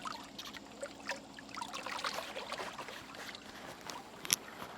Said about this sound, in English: Definitely some audible water splashing going on there.